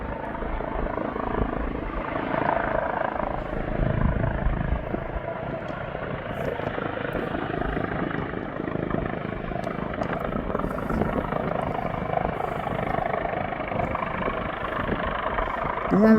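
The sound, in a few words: helicopter at East Midlands Airport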